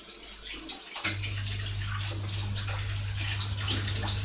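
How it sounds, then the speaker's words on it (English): Tap water running steadily as a spoon is rinsed in a kitchen sink, a close continuous splashing flow that starts abruptly and holds at even loudness. "just rinse my spoon off"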